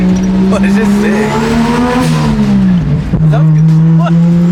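A car with a 1JZ VVTi engine drones loudly and close at a high, sustained engine speed. The pitch dips briefly before holding steady again, with some rough crackle mixed in.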